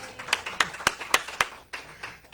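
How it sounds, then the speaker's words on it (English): A live church audience applauds a musical guest at a Sunday service with a steady run of crisp, evenly spaced claps, moderately close and fairly loud, over a soft murmuring room background. "Let's give another round of applause to Bill Rotella"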